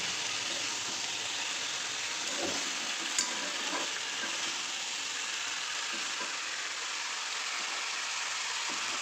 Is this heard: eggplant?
yes